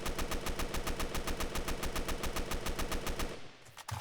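Rapid automatic gunfire from the shooter game Fallen rattles in an evenly spaced, fast stream for about three seconds, then cuts off, leaving a couple of faint thuds.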